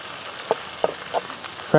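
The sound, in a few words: onion, green chili, coriander and curry leaves sautéing in pan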